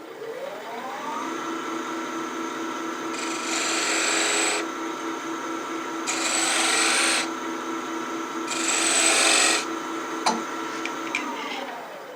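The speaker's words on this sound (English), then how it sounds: "I want to make a couple of, just a few tiny little V-grooves. So I'll use my point tool for that." A point tool on a lathe cuts small V-grooves into the back of a wooden pendant held in a DIY Dux chuck. A steady motor hum carries three separate bursts of scraping, each a few seconds long, ending with brief ticks.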